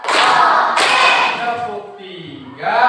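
Two sharp hand claps from a classroom group doing a counting clap routine, sounding as loud, close broadband bursts with a short ringing tail after each.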